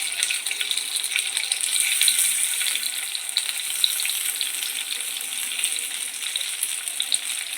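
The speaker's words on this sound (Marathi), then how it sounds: "आता आपले भेंडी याच्यामध्ये ठेवूयात" Stuffed okra fries in a hot pan, giving a steady, close hiss and sizzle that holds evenly for several seconds with no voices.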